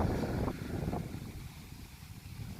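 Wind buffets a microphone outdoors beside a shed under construction, a steady low rumbling roar with gusts that ease slightly partway through.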